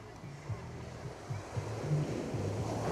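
Ocean waves crashing on the sand at Laguna Beach, California, a steady broad surf roar with gusty wind noise and a low rumbling hum underneath.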